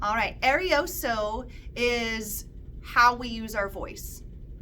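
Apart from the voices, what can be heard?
No everyday noise stands out behind the speech.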